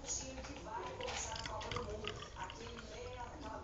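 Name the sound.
water being poured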